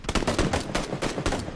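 Rapid bursts of gunfire in the battle-royale game PUBG, loud and close, with about six sharp volleys repeating in quick rhythm and no talk over them.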